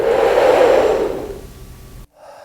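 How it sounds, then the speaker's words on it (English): A person sucks air inward through the fat part of an index finger, a low breathy hissing inhalation that swells then fades over about two seconds, followed by a brief quieter sound. "you just suck in air in this low sucking sound"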